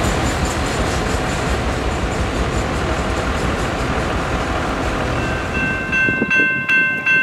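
A CSX freight train, Q220, rolls past at the Folkston railwatch with a loud, continuous rumble of wheels and cars close by, and a brief horn-like tone and squeal rising near the end.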